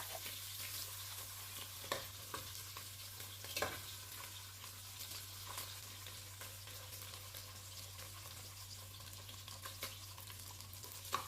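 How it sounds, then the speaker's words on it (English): Fish frying in oil for a carrot sauce gives a soft, steady background sizzle with a few sharper pops and clicks, fairly faint and heard alone without talk. "So these ones will have to fry and then we remove them when they are dry."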